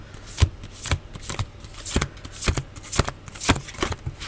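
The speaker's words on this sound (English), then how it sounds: "I don't care for cards that are too big, where you can't shuffle them" A deck of oversized cards is shuffled in a steady run of close riffling and slapping bursts, about two per second, clear and alone.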